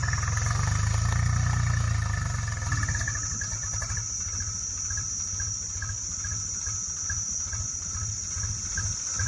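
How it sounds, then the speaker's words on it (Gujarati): A tractor engine runs with a low, rhythmic chugging throb as it pulls a load of wood, steady and fairly close, under a constant high insect-like whine and with no talk. "જો ગાઈસ ટ્રેક્ટર ખેંચે છે લાકડું."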